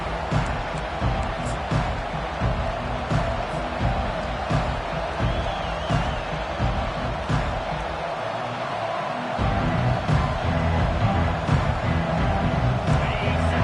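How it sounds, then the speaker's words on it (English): A college football stadium crowd roars in a steady, dense wash of cheering, close and loud throughout, swelling slightly in the final seconds as play gets underway. "This crowd bringing an ear-splitting welcome to their visitors."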